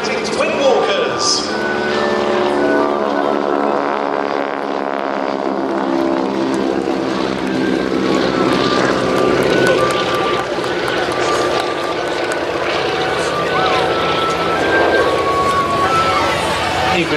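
A propeller-driven wing-walking display biplane flies past at a windy air show, its engine drone loud and steady throughout, rising and falling slightly in pitch as it passes, with an announcer's voice talking over it.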